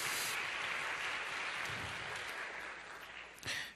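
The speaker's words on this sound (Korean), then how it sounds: "우리 살아계신 하나님께 감사와 찬양의 박수를 다시 한번 올려드리겠습니다." A church congregation at Onnuri Church in Korea applauds during a worship service: a thick, even wash of many hands clapping that slowly thins and fades over a few seconds.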